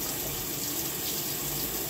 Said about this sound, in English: I set it to either super or extra, and I let the water run first.